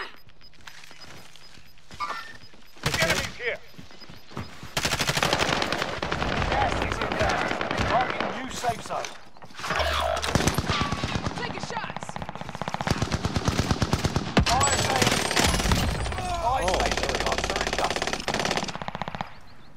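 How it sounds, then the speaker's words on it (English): Dense automatic and single-shot gunfire from Call of Duty: Modern Warfare, loud bursts and sustained rattling volleys nearly throughout, with a brief lull near the start and heavy firing in the second half. "Oh shit, they're putting bullets in me."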